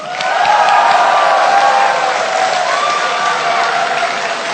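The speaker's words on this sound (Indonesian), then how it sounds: "kita berikan tepuk tangan" Loud, sustained applause from a crowd at a 2014 Indonesian presidential debate, steady clapping filling the whole stretch without pause.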